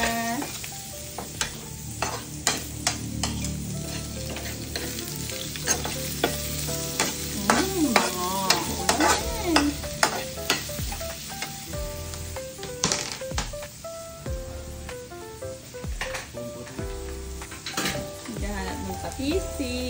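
Onion and garlic sauté in a pan for burong kanin, a bright continuous sizzle cut by frequent scraping spatula clicks and clatters, loud and near for the whole stretch.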